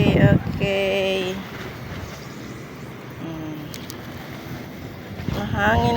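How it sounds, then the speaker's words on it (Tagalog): Steady gusty typhoon wind (Typhoon Carina) roars outdoors in a garden with broadband rushing noise, brief tonal creaks or horn-like tones appearing near the start and end. "Mahangin pa po. Uulan na naman mamaya."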